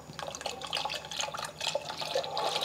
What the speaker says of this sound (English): you can add the rest of the milk.